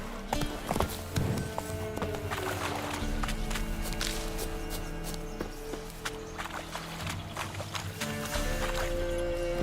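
Hooves clop steadily as a horse moves along in The Witcher 3, the rhythmic footfalls fairly close and set against a quiet game background with no talking.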